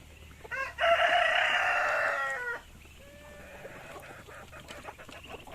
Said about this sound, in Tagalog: Ayan yung wild chicken.